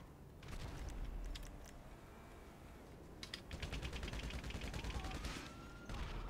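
Gunfire spraying at a player in GTA 5 Online, rapid automatic bursts rattling in two main volleys over a steady low background rumble, fairly distant and quiet.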